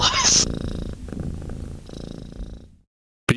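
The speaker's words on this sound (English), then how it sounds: "Oh, there's a cat. That's what that was." A cat purrs close to the microphone in a deep, rumbling rhythmic pulse that runs for a few seconds and then fades to silence, with no talking.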